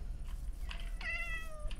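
A cat meows in the video game Craftopia: two soft meows, the second a longer, clear rising-then-falling call, heard alone over a low steady background.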